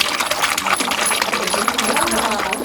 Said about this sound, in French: Quand la roue tourne, il y a les grelots qui bougent aussi.